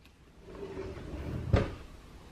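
A kitchen cabinet door or drawer in a manufactured home is handled, with a soft slide and then one sharp closing knock, heard close in a quiet room with no talk.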